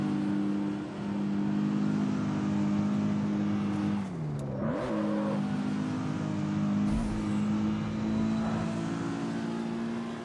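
A racing-game car engine revs steadily at a high pitch up to the rev limiter, holds there, drops briefly through a shift with a whine, then climbs and holds again, loud and close with no talk.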